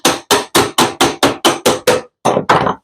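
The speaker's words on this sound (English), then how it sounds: "And this is just a body hammer." A flat-faced body hammer strikes a round 4-inch metal duct to flatten it into a rectangular shape: ten loud, close, evenly spaced metallic blows, with a brief pause before the last two.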